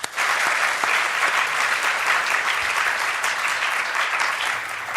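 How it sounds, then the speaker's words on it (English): A debate audience at a robotics and autonomous systems event gives sustained applause to welcome the panel, with dense, even clapping that holds steady and loud for several seconds before tapering slightly. "giving a very warm round of applause to Maggie Bowden, Tom Chatfield, Steve Fuller, Anthony Painter, and Judy Wiseman"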